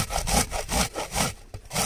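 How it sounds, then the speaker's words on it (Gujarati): Raw sweet corn kernels grated on a kitchen grater for an onion and tomato gravy, a steady back-and-forth rasping in rhythmic strokes, close and fairly loud with no talking. "કાચી મકાઈ છીણવાની કાચી મકાઈ છીણવાની છે"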